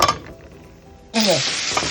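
Chopped brinjal and potato hitting hot oil in a pan, a quiet pan hiss suddenly bursting into loud, bright sizzling that continues steadily, with a brief clink of a utensil partway through.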